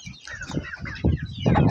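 Roosters and hens a little over three months old clucking nearby, a run of short, irregular calls that grows louder toward the end, with no one talking.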